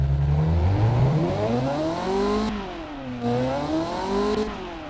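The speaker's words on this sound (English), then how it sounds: "Proper Italian V8. Sorry, Fruinian V8." Fruinian V8 engine in the video game Automation revs loudly in rising and falling sweeps, a smooth multi-cylinder roar heard up close with no voices.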